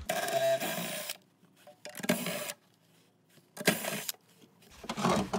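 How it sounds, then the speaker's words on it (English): A 10 mm socket on a ratchet backs bolts out of the SRS airbag control module in a Chevrolet Silverado, three separate bursts of close rapid clicking with quiet gaps between them. "I'm going to use a 10 millimeter socket to remove the three bolts."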